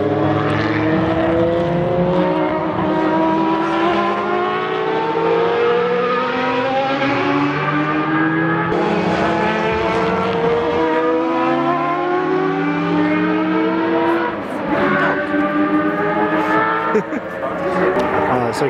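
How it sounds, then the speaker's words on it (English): Group C race cars roar and drone at Fuji Speedway, Japan, several cars with rising and falling pitch as they pass, loud and continuous throughout. "the Group C cars have come out"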